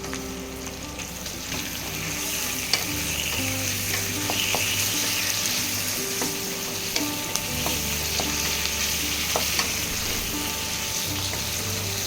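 Tomatoes frying in a pan for meal maker gravy, a steady crackling sizzle with occasional stirring scrapes, close and continuous without voices.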